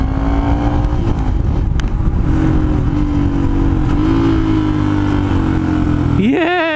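Off-road vehicle engine running on a trail, a loud, sustained mid-pitched drone with small shifts in revs and some speech-like activity, ending in a quick rising whine.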